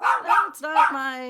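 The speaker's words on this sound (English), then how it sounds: "And that's a dog, wanting to be part of the podcast." A dog whines and yelps in short bursts indoors, close by and fairly quiet, mixed in with a person talking.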